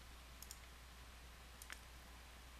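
A computer mouse clicking a software button, a couple of faint, sharp clicks over steady low electrical hum, with no voice.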